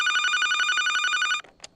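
A telephone rings with a fast, trilling electronic bell tone for over a second during a Dominican call-in radio show, then cuts off abruptly, leaving a short faint sound after.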